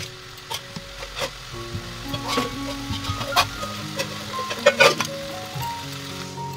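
Spice paste going into a pan of chicken curry, with soft sizzling and scraping stirs and a few clinks under a steady background hum.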